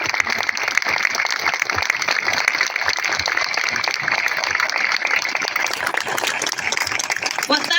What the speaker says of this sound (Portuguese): uma salva de palmas para recebermos a Presidente da Junta de Freguesia da Misericórdia, Carla Madeira.